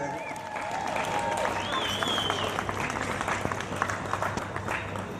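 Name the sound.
applause for Tori at a live concert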